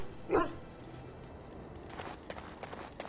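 A dog in the Dragon Age: Origins video game gives a single short, fairly loud bark early on, followed by quieter scuffing and footstep-like game sounds with no talk.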